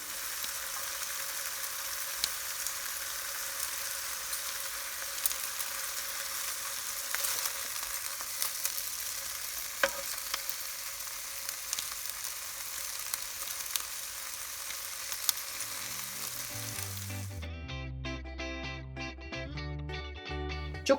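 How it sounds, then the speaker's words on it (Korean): Pork belly slices sizzle on parchment paper in a pan during a car-camping meal, a steady soft crackling fry with occasional pops, before background music takes over near the end. "설거지를 편하게 하기 위해 종이 호일을 깔고 삼겹살을 먼저 굽고 있습니다."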